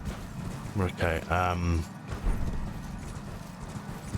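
Horse hooves clip-clop at a steady trot while riding in the video game Elden Ring, a continuous rhythm running under a short spoken remark.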